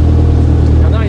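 Rally car engine at Rallye Grasse Alpin 1991, a loud steady in-car drone with a rising whine near the end as it moves to overtake, under a voice speaking.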